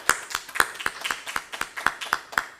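A church congregation claps in a steady rhythmic beat, about ten crisp, evenly spaced claps close by in a quiet room, with no voices over them.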